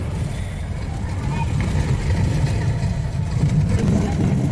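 A jeep grinds along a rough, potholed forest road toward Dudhsagar waterfall, its engine a steady low rumble with bumps and rattles, while voices talk over it throughout.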